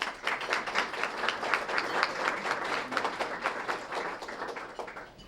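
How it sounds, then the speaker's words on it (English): Audience applause at a school Student of the Month event, a steady patter of many hands clapping at moderate distance, holding evenly for several seconds with no talk over it. "let's give them all a great round of applause"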